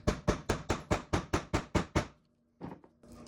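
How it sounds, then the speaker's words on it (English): A heavy-duty hammer strikes a grommet punch through a wallet: ten quick, sharp, evenly spaced blows close by, then a short pause and two more softer knocks. "I'm going to use my heavy duty hammer"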